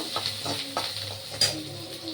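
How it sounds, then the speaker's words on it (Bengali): Ginger frying in oil in a pan for home-style spinach, heard as a soft close sizzle with a few light scraping stirs and utensil taps. "আদা দিয়ে ভাজা ভাজা করে নেব।"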